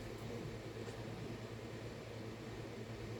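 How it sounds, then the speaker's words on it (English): A domestic dishwasher runs in a home kitchen, giving a steady, fairly faint broadband wash with a low hum and no pauses or distinct events. "Sorry for the dishwasher noise"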